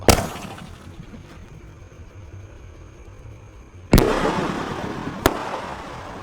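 New Year's fireworks and firecrackers go off outdoors at night: a loud crackling burst at the start, then a big bang with fizzing crackle and another sharp pop shortly after.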